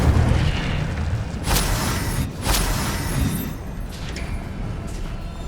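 Incendio fire spell blasts in the Hogwarts Legacy video game, two sharp bursts rising over a dense, loud rumbling backdrop of game effects.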